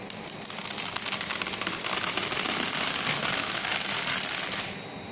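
Old sandpaper is pulled over a slightly rounded edge, and the breaking glue bond makes a dense, continuous crackle. The crackling is fairly loud and close, lasts several seconds and then stops abruptly.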